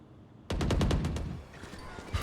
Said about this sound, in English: A little bit of gunfire coming out.